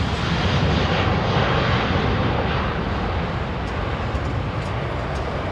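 A KLM airliner bound for Amsterdam takes off from runway 27R at London Heathrow, a loud broad jet engine roar that holds steady and close throughout with no voices.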